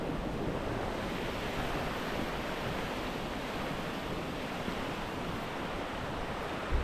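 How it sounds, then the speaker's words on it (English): A waterfall in Garmisch-Partenkirchen, Bavaria, gives a steady, even rush of falling water, soft and distant, without voices. "This is the waterfall."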